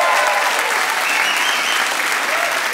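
Studio audience of a live Dutch-language TV talk show applauding, a dense, loud, even wash of clapping that holds steady throughout with no gaps.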